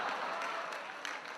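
An audience at a live comedy show breaks into a brief, loud burst of dense clapping that fills the room.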